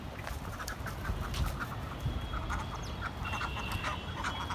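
Chinese ducks quack in a noisy rooftop setting, their calls mixed into a dense, steady wash of background noise with other birds chirping faintly, fairly close and continuous.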